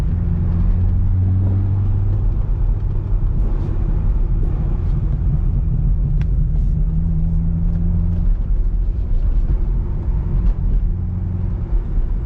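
A stock C6 Corvette Z06 engine at a drag strip, a loud, continuous low rumble and roar holding steady with slight shifts in tone as it accelerates through the gears.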